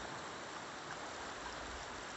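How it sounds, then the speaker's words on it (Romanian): Ocean surf surges against the cliffs at Hartland Quay, a steady, dense roar of water that holds evenly throughout, fairly faint and with no voices. "Iar aici oceanul vine cu putere fantastică și sculptează în timpul a sute și mii de ani aceste stânci"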